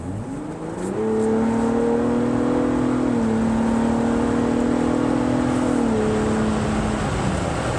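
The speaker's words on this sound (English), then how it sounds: "So this time we're going to accelerate, and you should really hear the exhaust." A 2023 Ford Bronco Raptor SUV's engine and exhaust drone rises as it accelerates, holding a loud steady tone with a couple of gear-like pitch shifts, heard from inside.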